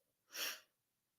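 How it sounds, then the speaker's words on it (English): A single short, breathy sneeze, close and fairly soft, with quiet surroundings before and after. "That was the cutest sneeze ever"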